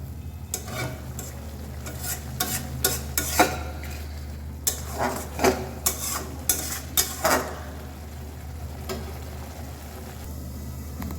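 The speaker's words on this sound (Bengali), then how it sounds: "এখন মশলাটা একটু ভালো করে কষিয়ে নিব" Spice paste for a dried-fish (shutki) curry fries in a pan, a steady hiss and hum broken by repeated scraping strokes of a spoon against the metal, close and clear.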